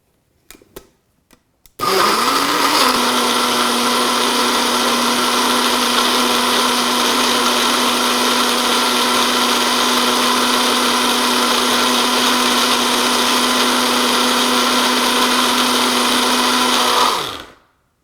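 A kitchen blender purees tomato and mushroom soup with garlic, starting after a few light knocks and then running as one loud, steady whirring drone for about fifteen seconds before cutting off.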